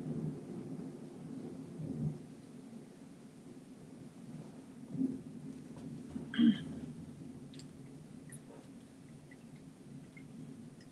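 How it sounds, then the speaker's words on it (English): Distant thunder from a thunderstorm rumbles low and soft across the clip, with a few brief, slightly stronger rolls standing out faintly from the steady background. "Oh gracious, y'all hear that thunder?"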